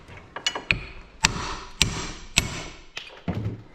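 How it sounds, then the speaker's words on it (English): A hammer strikes a U-joint held in a vise on a GMC truck, giving about half a dozen sharp metallic blows at an uneven pace, close and clear, with some lighter taps between them. "the best way to do U-joints is with a vise and a hammer"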